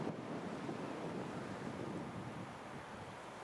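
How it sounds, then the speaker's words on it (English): Wind on an open plain near Great Brickhill roars in a continuous broadband rush with gusty buffeting against the microphone, steady and fairly loud throughout with no other sounds. "The wind is certainly picking up now."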